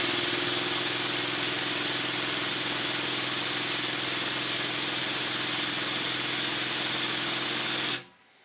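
The pneumatic air pump of an SGS 75 tonne hydraulic press runs as a loud, steady hum with a buzzing drone, then cuts off abruptly near the end. There is no talking.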